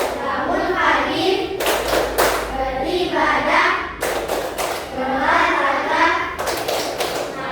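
Children clap along in a rhythmic classroom chant, bursts of sharp hand claps punctuating their sung verses, loud and close with a teacher leading.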